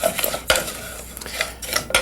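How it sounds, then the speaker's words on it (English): Basmati rice with asafoetida toasts in a pan, with repeated spoon scrapes and clinks against the metal over a faint sizzle. "We need to gently toast our rice for a couple of minutes."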